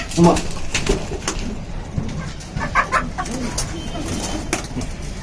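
Pigeons cooing at a home loft, soft low repeated coos close by amid rustling, with a voice talking over them.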